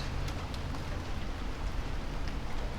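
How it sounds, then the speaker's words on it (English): Steady moderate rain patters continuously outdoors, a dense, even hiss of drops with no voices, moderately loud and unchanging throughout, recorded on a SYNCO Mic-D2. "It's raining, like not too heavily, but there's quite a lot of rain."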